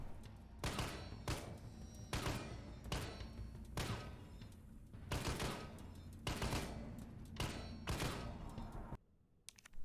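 Gunfire in the video game Resident Evil 3 Remake, with repeated bursts of thin, weak-sounding shots and bullet impacts separated by short gaps.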